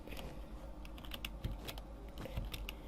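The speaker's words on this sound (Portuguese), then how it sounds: "Se vocês ouviram o meu teclado ou isso, desculpem." Computer keyboard typing during a Minecraft Skywars game, a steady stream of quick key clicks close to the mic with no talking.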